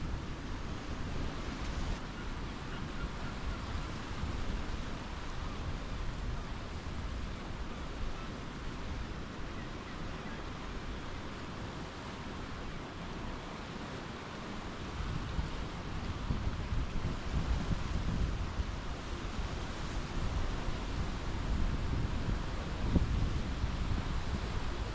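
Steady broadband roar of wind and surf along the rugged Newfoundland coast, continuous and fairly loud for the whole stretch with no voices.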